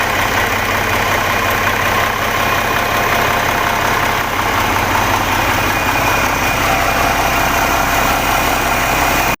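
A surplus Korean Hyundai D6AB diesel engine idles steadily and loudly throughout, with a constant mechanical rumble and vibration and no talking.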